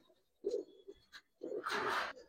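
Giribaz khaki and silver pigeons coo in a loft, with a few soft low calls rising into a louder, breathier burst near the end, heard close and alone.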